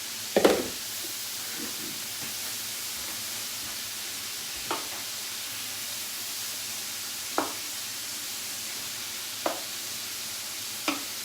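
Chestnut mushrooms frying in a child-safe pan during meatball cooking, a constant soft sizzle with occasional brief stirring scrapes and clinks spaced every few seconds.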